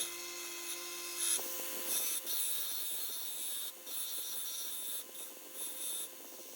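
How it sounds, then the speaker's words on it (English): Steady abrasive grinding of a belt grinder shaping a knife's guard, a continuous high rasping whine with brief surges as the piece is pressed against the belt. "I bring the blade over to the belt grinder to start shaping the guard"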